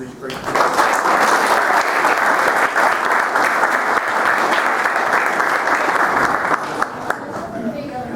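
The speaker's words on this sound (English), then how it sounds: "one last round of applause for all these great people" Applause from parents, teachers and children at a school fire safety awards ceremony, sustained dense clapping that holds steady for several seconds before thinning near the end.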